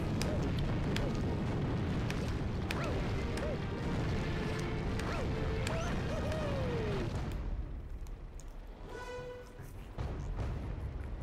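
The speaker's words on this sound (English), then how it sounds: "he just shoots cannonballs to destroy the ground that you're walking on" Bowser firing cannonballs that destroy the ground in Super Mario Galaxy: a continuous booming, crashing rumble of game explosions with rising and falling tonal effects, which thins out toward the end.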